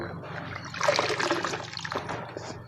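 Bamboo shoots soaked overnight in water are tipped into a basin used for rearing beetles, a short watery splash and trickle that swells mid-clip and then tapers off.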